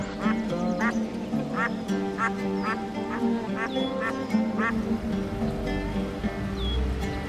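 A frightened duck quacks repeatedly in a rapid, steady series over a noisy outdoor background, with a few other bird calls mixed in.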